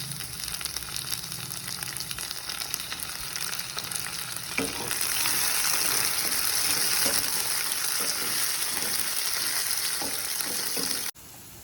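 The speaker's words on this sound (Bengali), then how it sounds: "কিছুক্ষণের জন্য এটাকে আমরা একটু ভেজে নেব।" Green chilies and ginger, then tomato, fry in a pan as the base for an egg curry, with a continuous hiss and sizzle that swells louder midway and picks up stirring scrapes before cutting off abruptly near the end.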